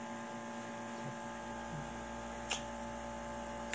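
An air conditioner hums steadily in a quiet bedroom at night, a faint low drone with a couple of small clicks and no talking.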